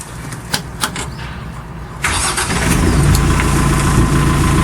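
An RX tractor engine cranks and catches about two seconds in, then settles into a steady, loud diesel idle that runs to the end.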